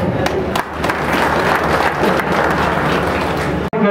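A seated audience at a university inauguration ceremony breaks into loud, sustained applause, dense overlapping clapping that holds steady and then cuts off abruptly.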